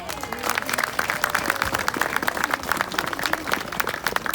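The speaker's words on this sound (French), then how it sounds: "qu'on peut applaudir." Audience applause at an outdoor square inauguration ceremony, a dense continuous patter of many hands clapping at moderate distance, steady throughout.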